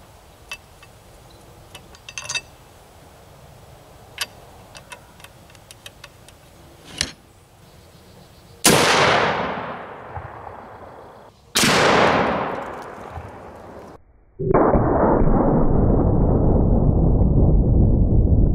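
Two booming shots from a Serbu RN-50 .50 BMG rifle fired at a bowling ball outdoors, each a loud sudden blast with a long rolling echo, preceded by faint clicks and ticks of handling and followed by a sustained loud rush of noise.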